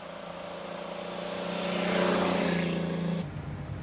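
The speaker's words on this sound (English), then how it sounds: "the Wolseley Hornet was a very smooth engine, had a 6-cylinder engine" A vintage Wolseley Hornet with a tiny 1200cc six-cylinder engine runs smoothly at a hillclimb, its steady engine drone swelling as it accelerates and then cutting off abruptly, heard from a moderate distance.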